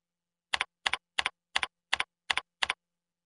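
Seven crisp, evenly spaced computer keyboard keystrokes ring out alone against silence as a username is typed in short, steady succession.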